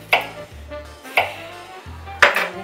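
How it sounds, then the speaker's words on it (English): A knife chops through a yellow zucchini on a cutting board, three distinct crisp strokes about one second apart, close up, with no speech. "So I'm gonna just chop up my yellow zucchini."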